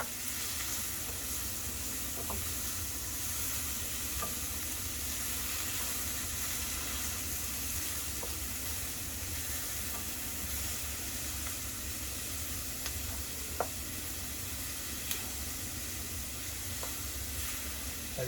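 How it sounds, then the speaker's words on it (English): Chopped onions sauteing in a pan over high heat for a spinach quiche, giving a steady, continuous sizzle and hiss with a few faint clicks of stirring, close and alone without talk. "you want to put this on high heat when you first start sauteing, and then turn the heat down"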